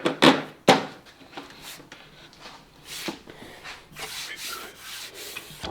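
Utility knife blade scraping and shaving splintered wood tear-out from the edge of a DeWalt saw infeed table, giving close, loud rasping strokes that start with sharp bursts and settle into steady rubbing.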